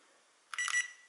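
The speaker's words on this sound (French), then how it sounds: "le bip dit que je suis en mode headless" An SG106 drone gives a short electronic beep signalling headless mode, a brief bright two-part tone heard close and alone against quiet indoor background.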